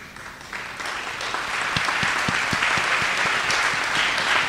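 An audience at a Georgia governor candidates' forum in Warner Robins applauds educators, a dense steady roar of clapping that builds and holds at full strength throughout.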